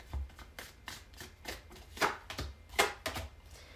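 Tarot cards being shuffled by hand at close range, a series of crisp riffling and slapping bursts in an uneven rhythm, with soft handling sounds between them and no voices.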